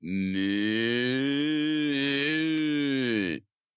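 A person imitates a cow with one long, deep, sustained moo, close and loud, holding steady for over three seconds before cutting off abruptly.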